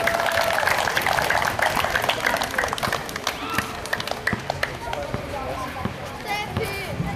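Applause from an audience at a children's Day event in Sighetu Marmației, steady and dense for several seconds, with crowd murmur and some voices mixed in.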